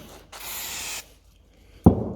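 Brake cleaner sprayed onto a Yamaha 4-stroke outboard gearbox during a seal and oil change: a short, close hiss of under a second, then a brief pause and a dull knock.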